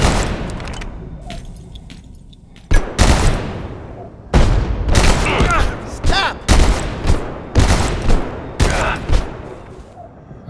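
Bursts of automatic rifle fire in a video game, several sharp, loud volleys in quick succession with short gaps between them over a faint background.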